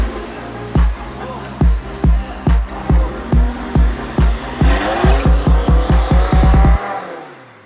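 A VF-Engineering supercharged Audi R8 engine runs on a dyno, with a string of loud close throttle blips followed by a long rising rev that climbs steadily and then cuts off abruptly.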